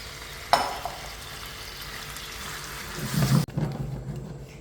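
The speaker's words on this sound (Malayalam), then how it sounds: "നമ്മൾ നേരെ നമ്മുടെ ചിക്കൻ ഇതിലോട്ട് ചേർക്കാൻ പോകണം." Chicken tipped into a thick, sweet and tangy orange sauce in a non-stick pan, giving a sharp clatter followed by a bubbling sizzle and scraping stirs near the end, with no talking.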